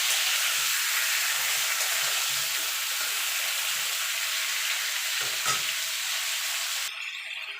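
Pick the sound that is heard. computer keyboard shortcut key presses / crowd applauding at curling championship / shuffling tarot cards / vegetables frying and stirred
vegetables frying and stirred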